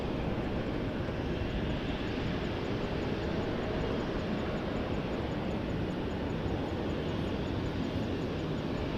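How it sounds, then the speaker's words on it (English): An Air Canada Airbus A330-300 jet in Star Alliance livery at Montréal-Trudeau Airport gives off a steady, broad engine roar that stays even and fairly distant throughout, with no talk. "A330-300 Star Alliance livery. You're okay. From Vancouver, Air Canada 306."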